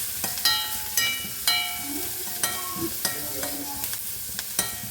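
Ridge gourd with curry leaves is stirred in a frying pan, a spoon scraping and clinking at a steady rhythm over a soft, continuous sizzle, close and fairly quiet with no talk.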